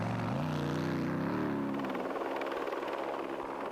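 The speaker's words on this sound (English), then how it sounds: "The police helicopter was kept busy patrolling crowded public roads" A steady, loud engine drone of a police helicopter patrolling over crowded public roads, with a low rotor-like hum that shifts in pitch, then settles into a constant roar.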